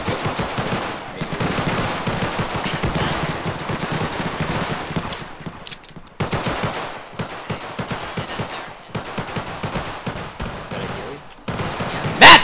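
Sustained video game gunfire in rapid automatic bursts, loud and dense for most of the stretch, with short pauses between volleys and a sharp final burst at the end.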